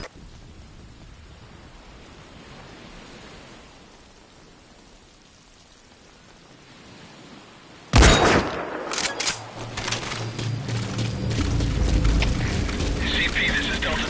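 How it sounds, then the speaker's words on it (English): Near-silence, then sudden loud bursts of gunfire in Metal Gear Solid V break out and keep going as a dense, crackling barrage, with a voice speaking faintly among the shots. "Gunfire."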